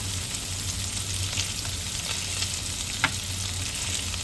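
Bacon-wrapped chicken skin frying in a pan gives a steady, close sizzle and crackle of hot fat with small pops, and one sharper spatter stands out near the end.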